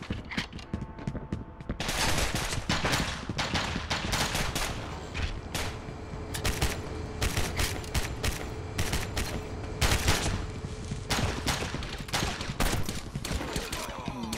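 Bursts of rapid gunfire from the video game Gotham City Impostors, sharp volleys and single shots firing in irregular clusters, with quieter gaps between them.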